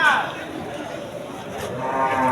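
Large cattle low and moo at a busy livestock market in the run-up to meugang, with a clear moo at the start and another building at the end over faint crowd murmur.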